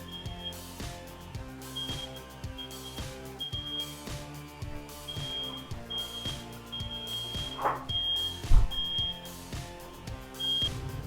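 A high, piercing smoke alarm beeps in repeated bursts over loud rhythmic music, sounding partly buried in the mix.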